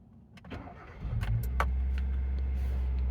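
A used Hyundai i10 with 43,000 miles, started at an auction sale, rises in a brief rev just after firing and then settles into a steady, close idle drone with no one talking.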